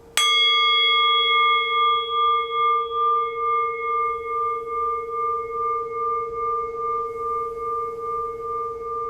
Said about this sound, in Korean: 자, 제가 종을 쳐보겠습니다.